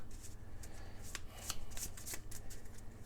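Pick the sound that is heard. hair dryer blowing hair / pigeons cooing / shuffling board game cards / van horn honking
shuffling board game cards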